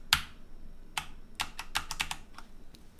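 Computer keyboard keys are pressed during a video-editing session, a handful of sharp, close clicks spaced irregularly over quiet room tone, with no talking.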